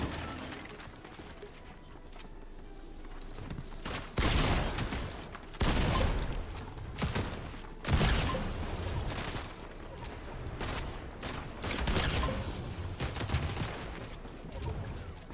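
Video game gunfire crackles in bursts of shots, loud and close, with several heavy volleys standing out over a steady background of action noise.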